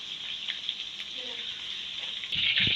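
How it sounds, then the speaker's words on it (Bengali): Prawns fry in hot oil with a steady, bright sizzle close by, swelling a little louder toward the end, with no voices over it. "চিংড়িটা একটু ভেজে নেব আমি"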